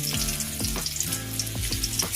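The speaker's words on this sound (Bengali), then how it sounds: "এগুলো ভাজা হয়ে গেলে পরে তেলের মধ্যে দিবেন তেজপাতা।" Garlic cloves and bay leaves frying in oil in a pan, giving a steady close sizzle with soft bubbling and a few faint clinks, no voices.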